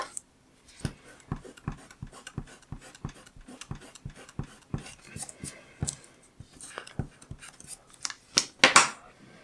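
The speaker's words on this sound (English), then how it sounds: "And I'm just drawing this line right in there." A pen drawing lines on paper for a tree illustration, giving a steady series of short, close scratchy strokes in an uneven rhythm, heard alone, with a few louder strokes near the end.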